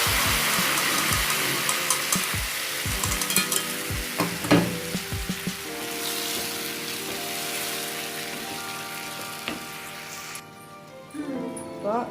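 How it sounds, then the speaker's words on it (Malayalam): A spoon stirs a thick chutney in a hot pan, with scraping strokes and a steady sizzle of frying, close and continuous, fading toward the end. "നന്നായിട്ട് ഇളക്കുക."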